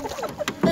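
A boat draws near on the Narmada river at Bhedaghat among marble cliffs, a short burst of water and motor noise under light background chatter, swelling louder toward the end.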